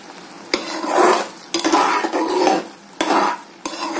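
A spoon stirs sugar syrup for ladoo in a metal pan, giving several scraping, swishing strokes with sharp clinks against the pan in an uneven rhythm, close up and with no talking.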